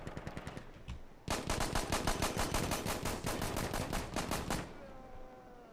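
Automatic gunfire in Insurgency: Sandstorm, a co-op match on the Last Light map: a few scattered single shots, then a long, loud, rapid burst of near machine-gun fire that rattles for several seconds before stopping abruptly, with no talk.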